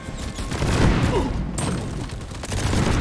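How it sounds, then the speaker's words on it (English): Cluster grenade explosions in the video game Deep Rock Galactic: Rogue Core make a dense, continuous rumble of overlapping bursts and booms that lasts the full three seconds, loud throughout with a brief dip midway. "Cluster grenade."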